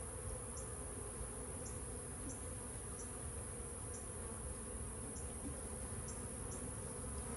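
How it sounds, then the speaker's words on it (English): A swarm of honeybees buzzes around a nuc being taken down from a tree, a steady, dense, close drone that continues without a break, with no talking. "So I got bees landing on my hand"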